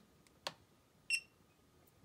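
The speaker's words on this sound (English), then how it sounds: "and you hear a beep" A Hubsan HT011A drone transmitter gives a short, sharp electronic beep after its LED button is long-pressed for stick calibration, one clear tonal chirp around mid-clip with a brief click before it, in a quiet room.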